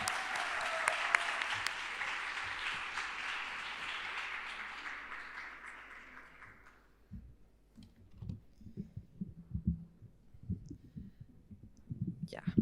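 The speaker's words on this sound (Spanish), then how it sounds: "Ahora sí, el aplauso, por favor." Audience at a university occupational therapy discussion gathering applauding, a steady wash of clapping that fades away over about seven seconds, followed by quiet clicks, handling noises and faint voices.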